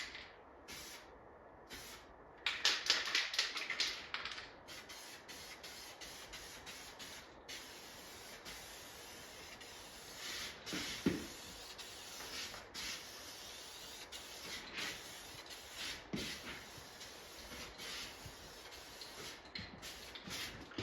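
A Spray Max aerosol can coats a Pengo arcade control panel in short hissing bursts, the strongest near the start and then lighter intermittent sprays, fairly quiet and close, with no voices.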